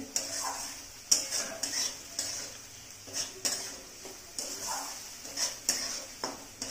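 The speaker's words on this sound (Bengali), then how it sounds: "এটা নাড়াতে হবে। এটা কষাতে হবে ভালো করে।" Masala is stirred and fried in a pan for a mushroom curry, with a spoon scraping in a regular back-and-forth rhythm over a low continuous sizzle, close and fairly quiet.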